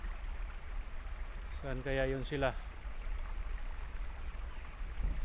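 A river stream at the foot of a mountain in Pangasinan rushes steadily, a constant wash of flowing water, while a person briefly speaks over it.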